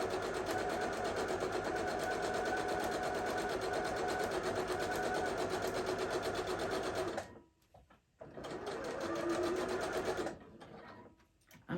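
Sewing machine stitching a front panel seam, a fast steady mechanical chatter running continuously, then stopping briefly, restarting and stopping again near the end, close and clear with no talking.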